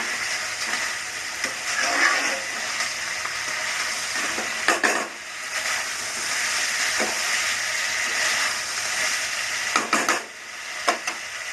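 Okra frying with onion in a pan, Bengali style, gives a steady close sizzle and hiss, with scraping stirring strokes breaking through around two, five, seven and ten seconds; no one speaks.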